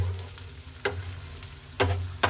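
Okra and curry leaves roasting in a hot pan, a continuous sizzle broken by a few scraping stirs of a spatula that arrive as short, bright bursts.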